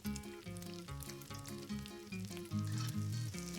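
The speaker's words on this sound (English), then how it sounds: "And then just drop the bread in the sizzling butter." Bread fries in hot sizzling butter in a pan, a steady close crackle and hiss that swells slightly partway through, with no voices.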